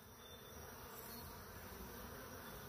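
Bees carrying pollen on their legs buzz in a dense, continuous swarm drone, close and steady throughout with no pauses.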